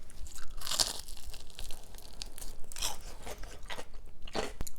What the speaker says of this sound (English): It's a pretty classic onion ring. It's delicious, crispy.